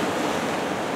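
Rough sea at Hayama after a bomb cyclone: loud, continuous surf with crashing waves, mixed with wind noise and no talking.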